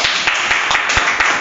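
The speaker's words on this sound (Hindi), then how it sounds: "ताली बजाई इनके लिए" An audience at a merchandising and export training class claps steadily, a loud, dense patter of many hands close by that continues throughout without any talking.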